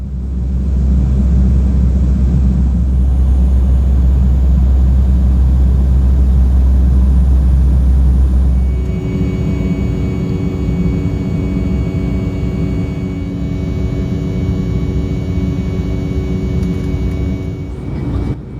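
Steady loud roar of a Kenya Airways Embraer E190 jet cabin in flight, a heavy low rumble with a broadband rush that shifts in tone partway through and then holds steady, continuous and close throughout.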